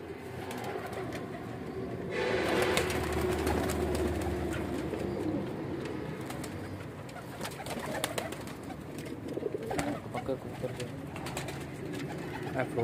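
Ferozpuri pigeons kept at a home breeding loft coo in low, repeated throaty calls, mixed with rustling, clicks and wing movement nearby, while a person talks faintly in the background.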